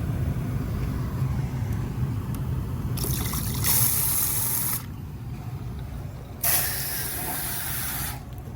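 A water spray hisses over rusty air-conditioner coils to rinse them, coming in loud bursts that cut off and restart, set against steady background noise.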